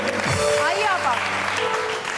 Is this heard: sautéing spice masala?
no